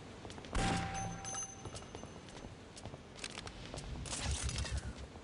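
Beam weapon firing in the shooter game Daikatana, a burst of rapid crackling zaps and bangs, with a sharp blast early on and another cluster of fire near the end, fairly faint overall.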